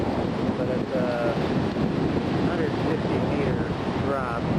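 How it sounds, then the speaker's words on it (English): A waterfall with a 150-meter drop in Norway or Sweden roars as a steady, dense rush of water, buffeted by wind against the microphone, with a faint voice in the background. "Here we are in the waterfall again"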